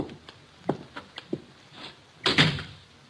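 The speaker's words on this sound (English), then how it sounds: "The door's open." A hotel room door opens in an old radio drama, a series of faint clicks and soft thuds from the latch and handle followed by a louder creaking, rattling swing near the end.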